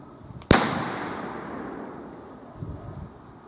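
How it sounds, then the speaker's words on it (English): Homemade firecracker exploding outdoors, a single sharp loud bang followed by a long fading rumble and tail, with faint rustling afterward. "the firecracker is going off"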